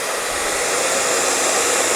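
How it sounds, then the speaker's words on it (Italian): A hair dryer blows a steady, loud rush of hot air at close range, drying freshly applied paint on raw wood, with an even roar that holds without a break. "Asciugo con il phon per velocizzare"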